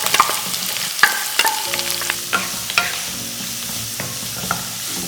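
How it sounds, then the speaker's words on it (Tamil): Finely chopped large onions sizzle in hot oil in a pan while a spoon stirs them, giving a continuous close frying hiss with repeated scraping clicks and no talk. "அடுத்ததாக நம்ம பொடி பொடியாக கட் பண்ணி வச்சுருக்கிற பெரிய வெங்காயத்தை சேர்த்துக்கலாம்"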